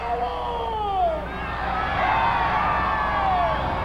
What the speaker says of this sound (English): You hear the crowd now again calling for Buster.